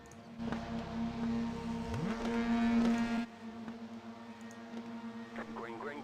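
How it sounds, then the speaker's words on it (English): Several TCR race car engines rev loudly together on the grid at Mid-Ohio for a few seconds, then drop back to a lower, rumbling idle with scattered higher revs. "We are going to get ready to race. Revs are up."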